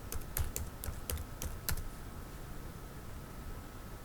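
Quick, light clatter of fingers typing on a computer keyboard, a short burst of keystrokes lasting under two seconds and then stopping, leaving only a faint steady room hum.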